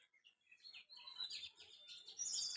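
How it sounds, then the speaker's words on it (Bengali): Two young dove chicks give soft, high chirping calls, faint and close, in a continuous run of thin twittering notes. "ঘুঘু পাখির বাচ্চা দুইটা, কত বড় হয়ে গেছে।"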